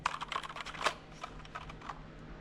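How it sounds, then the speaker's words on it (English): Keys clack on a Razer BlackWidow mechanical keyboard with USB-C, a quick irregular burst of close, crisp strikes that thins out into a few scattered taps. "This one's a mechanical keyboard."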